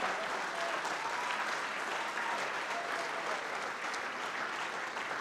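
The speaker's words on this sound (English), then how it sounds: "let's give him a big round of applause. Gerald Sensabaugh." Steady, dense applause rises from a crowd at a live sports radio road show as a football player comes on stage, sustained and fairly distant, with no break.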